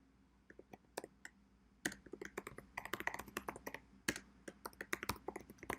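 Fingers tapping out a short name on a computer keyboard, a quiet, close run of irregular clicks that starts sparse and then speeds into a busier flurry of keystrokes.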